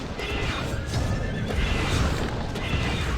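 A horse in the online fantasy game MU Online neighs and kicks amid a dense, continuous wash of battle noise during a castle siege, with no one talking over it.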